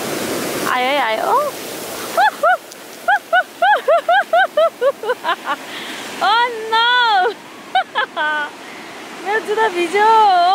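Ocean waves wash onto a beach in New South Wales, Australia, a steady rushing surf beneath loud, excited voices talking and exclaiming throughout.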